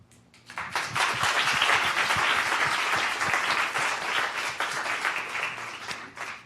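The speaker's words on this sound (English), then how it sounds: "Please give yourself a big round of applause for being here." Audience applause at a live event, a dense steady wash of clapping that swells quickly, holds for several seconds and then thins out toward the end.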